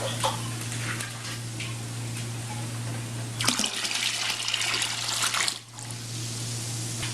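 Hot water poured into a five-gallon batch of homemade wine, a steady close splashing rush that swells louder partway through, then briefly drops off before resuming; no voices.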